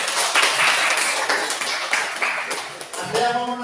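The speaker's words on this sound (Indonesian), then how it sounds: "Ya, tepuk tangan dulu." Students clap together in a classroom, a dense patter of hand claps running throughout, with a voice speaking over the end.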